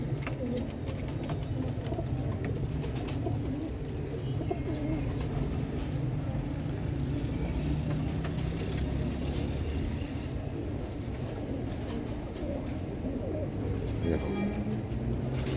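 Domestic pigeons coo repeatedly and close by in a loft, soft rolling calls over a constant hum of other birds, with faint traffic far off.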